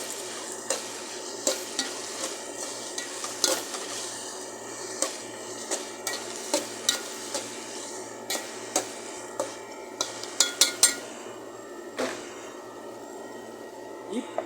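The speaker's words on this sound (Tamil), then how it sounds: "கொஞ்சம் கிண்டி விடலாம்." A Tamil chicken curry with coriander leaves is stirred in a pan, a spoon scraping and tapping the metal in a steady series of sharp clinks over a soft, constant sizzle.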